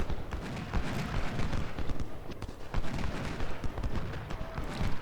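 Cavalry hooves in the Civil War battle game Ultimate General: rapid, irregular clattering hoofbeats of a horse unit. Scattered distant gunshots are mixed into a busy battlefield din.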